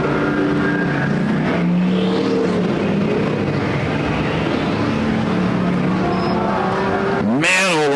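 Dirt-track race cars roar at Perris Auto Speedway during a demolition-derby night, a continuous loud engine drone with rising and falling revs, and one car sweeps past close near the end.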